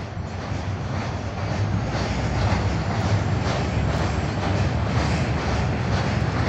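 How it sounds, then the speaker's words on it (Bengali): A long passenger train rolls past on its way toward Kushtia, Bangladesh, a close, loud, continuous roar and rumble of wheels and carriages that holds steady throughout. "তো ট্রেন রানিং হয়ে গেছে, কুষ্টিয়া শহরে ঢুকবে এখন বর্তমানে"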